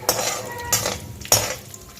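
Dried red chilies, broken by hand and dropped into a pan, clatter and stir against the metal in three distinct bursts, with a faint steady sizzle of frying underneath, close by and without speech.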